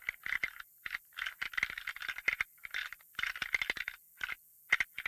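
Antler rattling call on a Hale pack rack, mimicking two bucks sparring: bursts of clattering, ticking tines knocked and ground together in uneven rhythmic clusters with short pauses between, close and fairly quiet, no talking.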